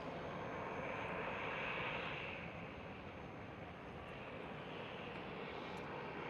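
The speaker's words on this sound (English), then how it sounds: "Air France taxiing towards us just arrived." An arriving Air France airliner taxiing at Amsterdam Schiphol airport, a broad steady engine roar that swells slightly and then holds constant, moderately distant with no voices.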